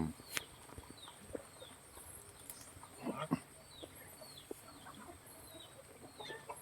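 Chickens cluck intermittently outdoors in a rainy field, with short bursts scattered over steady background noise and a louder flurry midway.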